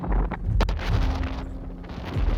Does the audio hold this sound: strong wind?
yes